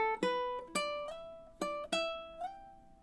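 Fingerstyle ukulele from a cheerful summer tune, measure 13: a handful of bright plucked notes and small chord strikes in an even rhythm, close and fairly quiet, with no talking.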